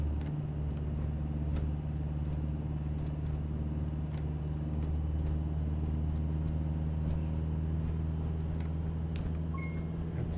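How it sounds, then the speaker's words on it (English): A light aircraft engine in the flight game Deadstick throttling up for takeoff, heard as a steady, moderate drone with a low hum that holds evenly throughout. "I'm going to throttle all the way up."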